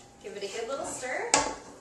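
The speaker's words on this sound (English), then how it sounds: "Give it a good little stir." Pumpkin cupcake batter being stirred in a bowl, giving a soft scraping swirl for under two seconds that ends in a sharp clink of utensil against the bowl.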